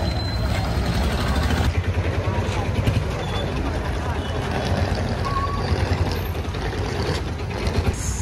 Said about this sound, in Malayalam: ബസ് വരുന്നുണ്ട്.